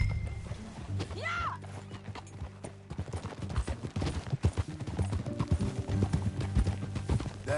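Horse hooves clop in a steady trotting rhythm in Red Dead Redemption 2, fairly close, with a brief whinny early on and some scattered background noise.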